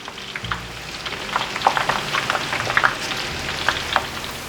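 Shallots frying in hot oil while being stirred constantly, a steady close sizzle with crackling pops and occasional scrape of a utensil, no talking over it.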